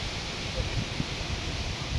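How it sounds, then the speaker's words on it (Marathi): Strong wind with heavy rain at night blows across farmland, making a steady broadband rushing roar with gusty buffeting against the microphone throughout. "वारं कावार पाऊस तर चालू."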